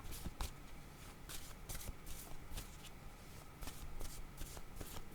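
Tarot-style cards shuffled for a reading, a steady run of soft riffling slaps and flutters repeating close by over several seconds, with no talk.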